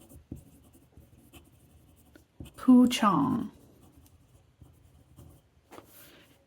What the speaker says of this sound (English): this pen on Tomorrow River 52 JSM paper is like butter. It is so smooth.